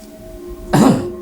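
A single short, harsh cough or throat-clear bursts out near the end, close and moderately loud, after a quiet stretch with a faint steady hum.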